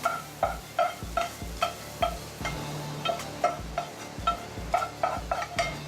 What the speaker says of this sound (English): Now, I'm gonna throw that into my risotto mixture